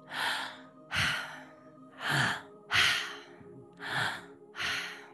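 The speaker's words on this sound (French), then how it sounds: "on va ouvrir grand la bouche, la tête légèrement penchée vers l'arrière, les yeux fermés. Et on respire très fort" Deep, forceful breaths drawn through a wide-open mouth with the head tilted back, six strong rhythmic inhale-exhale cycles close up, each a loud rushing gasp followed by a pause, with no talking.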